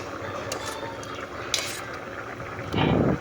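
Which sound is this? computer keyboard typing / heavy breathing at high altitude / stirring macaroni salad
stirring macaroni salad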